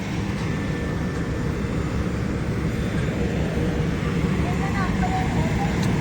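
A constant, even roar of jet engines and air rushes through an airliner cabin on a flight from Edmonton to Toronto. The drone stays steady and unbroken the whole time.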